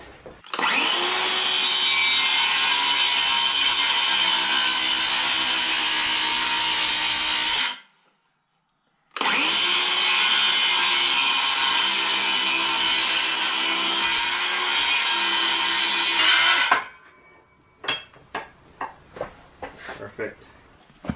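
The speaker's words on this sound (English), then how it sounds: "we gotta go 2 passes with the saw blade" A power saw blade makes two long passes through a wood bracket for a farm wagon, each a loud, steady whine lasting several seconds with a short pause between, followed by scattered knocks and handling noises.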